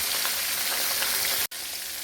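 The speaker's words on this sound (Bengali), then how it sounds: "উল্টে পাল্টে লালভাবে একদম লাল করে ভেজে নেব।" Fish heads sizzle in oil as they are turned, producing a steady close crackle with a brief cut to silence partway through.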